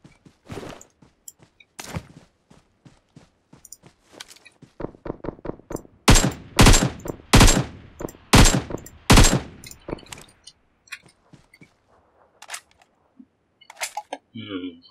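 Video game gunfire from a heavy-weapons mode: sharp single shots and rapid automatic bursts, loudest and densest in the middle, then scattered reports toward the end, with a player talking in between.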